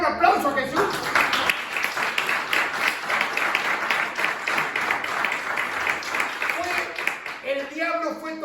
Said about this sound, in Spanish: Le puede dar un aplauso a Jesús